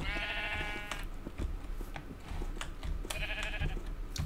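Two bursts of sheep bleating in Minecraft, one at the start and another a few seconds later, heard over a steady game background with clicks and footstep-like sounds.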